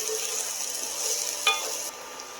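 Ingredients for sardine spaghetti sweating in oil in a pan, giving a soft, even sizzle up close, broken once by a brief metallic clink.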